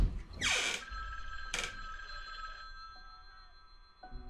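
A telephone rings in a Halloween indie horror video game: a loud burst of bell ringing, then a second shorter ring, followed by a hum and faint clicks.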